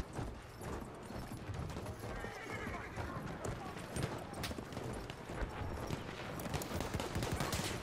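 Horses gallop with steady clip-clop hoofbeats and whinny amid battlefield noise in Battlefield 1, with distant gunfire crackling and a voice talking over the dense, continuous mix.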